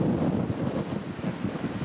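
Wind buffets the microphone at Meremõisa beach in Estonia, a steady low rumble of gusts with a faint wash of surf behind it, no voices.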